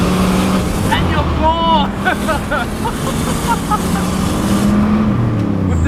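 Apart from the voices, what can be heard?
turbocharged Holden Commodore SS LS engine accelerating under boost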